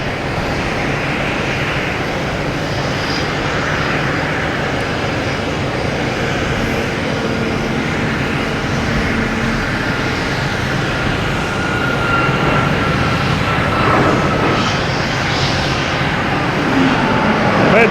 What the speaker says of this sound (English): Now we got WestJet here heading to Calgary, 737 MAX 8